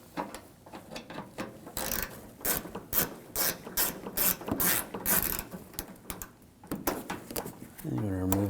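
A ratchet with an 8mm socket backs out a front lower grille screw on a 2007-2013 BMW 328i, giving rapid close metallic clicking in quick bursts with short pauses. A brief low hum comes in at the end.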